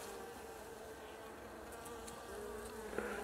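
Russian honey bees hum steadily at an open hive, a close, continuous buzzing drone with no talking.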